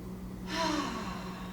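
A single deep breath during a teen and tween yoga and mindfulness class: one long, airy inhale swells and then holds steadily, close and moderately loud, with no talking.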